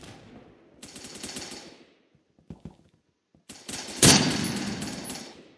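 Rapid automatic gunfire from a gun in the video game Phantom Forces, loud bursts of fire broken by short pauses and a few isolated shots, ending in one especially heavy sustained burst.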